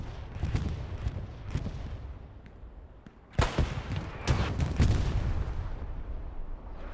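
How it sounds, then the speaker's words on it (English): Explosions from a bombing run and gunfire crack through a World War II shooter game on the Omaha map, with several sharp blasts and bursts of shots, one heavy boom midway and rumbling aftermath. "Proper value from the bombing run."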